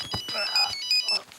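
A Nokia mobile phone ringtone in a Telugu film scene plays a short melodic run of bright, clear electronic notes at close range, with a little speech around it.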